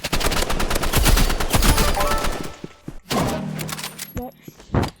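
Sniper rifle shots in a video game, sharp loud cracks and thumps among rapid bursts of gunfire, with a player talking over the action.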